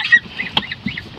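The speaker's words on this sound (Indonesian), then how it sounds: "anak angsa itu sudah besar-besar kan" Grown goslings, young farm geese, give a few short, close honks in a brief burst with no talking.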